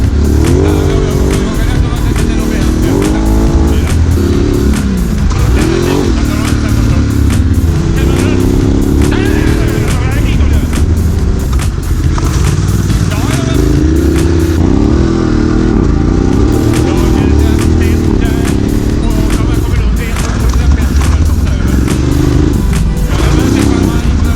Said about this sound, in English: Desert X Rally action. Here we go, launch.